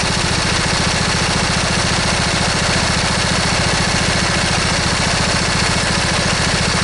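A lawn tractor's small engine idles steadily up close, its even chugging broken by slight irregular stumbles in the beat from a misfire.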